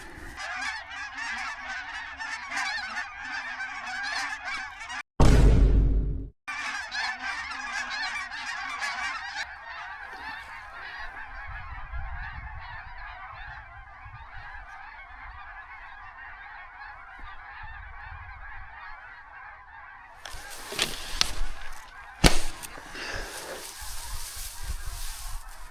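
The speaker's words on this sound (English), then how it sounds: "We got one juvie blue goose to come in right in front of us." Blue geese honk repeatedly during a duck hunt from a hay bale blind, a dense chorus of calls over about 25 seconds, loud and fairly close, with a few sharp louder bursts and handling noises.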